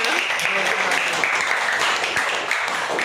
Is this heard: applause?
yes